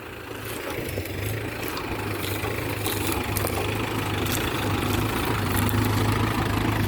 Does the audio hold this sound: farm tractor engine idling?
yes